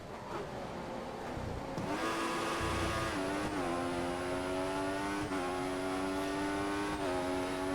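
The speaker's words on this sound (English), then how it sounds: "He's running full revs, maximum power." An F1 car engine screams at full revs in the F1 2014 racing game, a loud steady high-pitched whine with brief dips at gear shifts, held near and continuous throughout.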